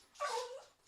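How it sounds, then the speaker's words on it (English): An excited dog whimpers in a short, close, rising whine lasting under a second, with no talk over it. "Dog's getting excited."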